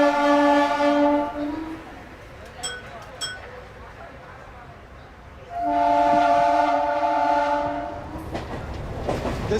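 A busy commuter train runs along the line at speed, its loud sustained horn blowing twice over the steady rumble and rail clatter.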